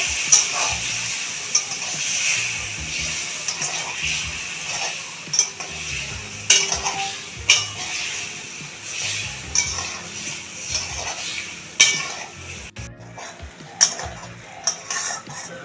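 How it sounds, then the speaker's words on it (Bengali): Spiced parshe fish curry sautéed in a pan, with a constant close sizzle and steam under frequent metallic clinks and scrapes of a spatula against the pan, irregular and moderately loud throughout, with no voices. "এখন সব কিছু আমি 4 থেকে 5 মিনিট একটু ভালো করে কষিয়ে নেব।"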